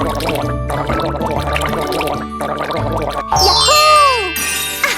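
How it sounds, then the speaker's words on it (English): Cartoon water rinse effect for a child rinsing the mouth after brushing teeth: a bubbly, gurgling splash with rising and falling watery tones that comes after a stretch of bright, bouncy music. "Rinse your mouth with water."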